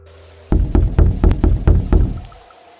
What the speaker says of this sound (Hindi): अचानक दरवाजे पर दस्तक हुई